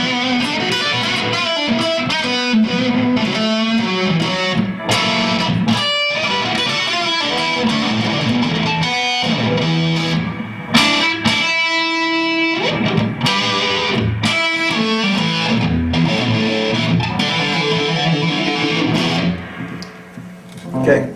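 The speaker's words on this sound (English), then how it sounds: "You can get quite a bit of overdrive, like you're really overdriving an amp." Electric guitar through an overdrive pedal plays a continuous, gritty riff with sustained chords and notes, loud and close, with no talking.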